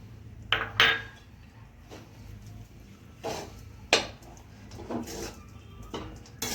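Vegetable upma being stirred in a pan, giving a series of short scraping and clinking spoon-on-pan strokes at an irregular rhythm, close and moderately loud.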